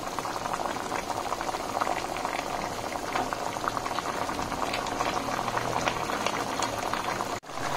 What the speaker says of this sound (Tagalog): Tayo lang natin kumulo tsaka haluin natin.